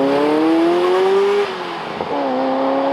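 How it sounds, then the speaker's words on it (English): A turbocharged Ferrari F40 engine with a gated 5-speed manual gearbox revs loudly and climbs in pitch, drops briefly as the gear changes, then pulls hard again, close and roaring. "Despite the fact that it's a turbocharged engine, it still sounds incredible."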